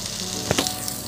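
Cauliflower and potato fry with spices in a close, steady sizzle, with a quick pair of stirring scrapes in the middle of a very short stretch.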